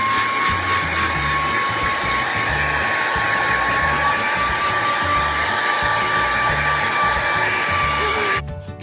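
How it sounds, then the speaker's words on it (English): A hair dryer blows steadily and loudly at close range over a dog's coat, a constant whine that holds for several seconds before cutting off near the end. "I'm gonna blow dry your hair,"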